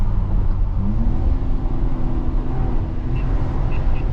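A 640hp BMW X3M Competition accelerating hard with its turbo building boost, a steady, loud broadband engine roar that holds throughout with a faint tonal whine rising underneath, heard from inside the car.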